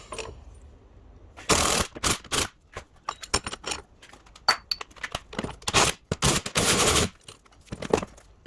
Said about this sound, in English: Just need to undo this bolt and get everything off it to transfer it to the new one.